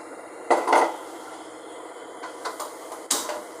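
A spoon scrapes and knocks against a pan while marinated mushrooms are stirred into a tomato masala, with two louder clatters near the start and end and softer scraping between them.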